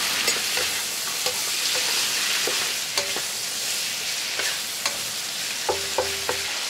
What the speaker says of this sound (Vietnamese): Mình đảo đều trong 1 phút và mình nêm sốt đã pha sẵn vào. Đảo đều khoảng 1 phút nữa cho đậu nó thấm sốt nha.